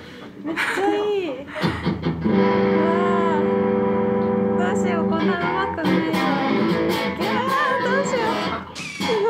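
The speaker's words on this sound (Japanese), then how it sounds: "なんかいつも行くようなコードだけじゃらーって鳴らして る" An electric guitar is strummed through effects in a guitar shop: a few sustained, ringing chords fill most of the stretch, with brief laughter and voices around them.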